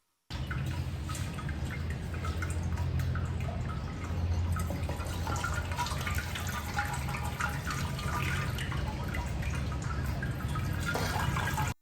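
Hot water, about 11.5 liters from a pot, pours steadily into a homebrew kettle for a wheat beer brew, a continuous close splashing and trickling with no talk.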